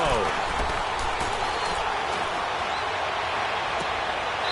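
Football stadium crowd roaring and applauding ahead of a big third down in a Falcons versus Saints game, a dense continuous cheer under a play-by-play commentator's voice.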